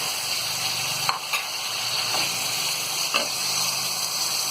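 Tomatoes dropped into hot ginger-garlic paste in a pan, giving a steady loud sizzle of frying with a few soft stirring clanks over the top.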